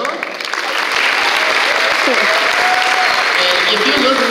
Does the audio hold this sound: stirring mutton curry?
no